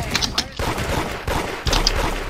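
Rapid bursts of gunfire from the Roblox game Da Hood crackle over and over from several directions, loud and clustered, with a player's voice talking and reacting between the volleys.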